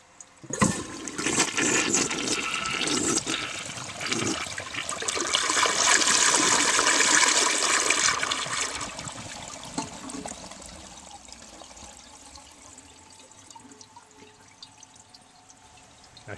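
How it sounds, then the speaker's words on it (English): A 1966 Mansfield Simplex toilet flushes with brook water, a loud rushing surge that builds over several seconds, then trails off into a quieter trickle and refill with no talking. "And we're now about to do a demo flush."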